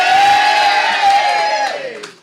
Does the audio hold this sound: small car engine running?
no